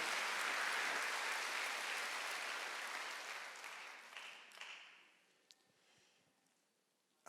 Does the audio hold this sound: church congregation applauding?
yes